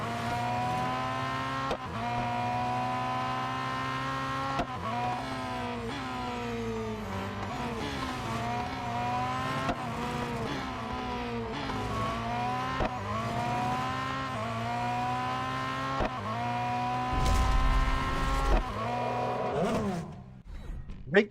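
Race cars in Real Racing 3 roar continuously with engines revving up and down through gear changes, close and loud, with tire squeal and other cars near the end.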